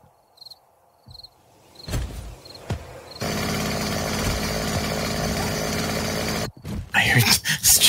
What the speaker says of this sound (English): I heard this chainsaw.